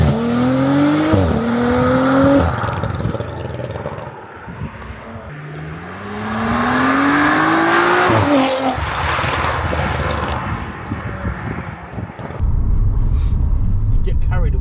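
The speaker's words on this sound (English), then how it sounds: "you got that sweet V6 noise as well, just singing to you in the background" Twin-turbo V6 in a 700 bhp stage 3 tuned Audi RS4 accelerating hard, rising engine pitch climbing through several gear changes, loud and close from inside the car, with people talking over it.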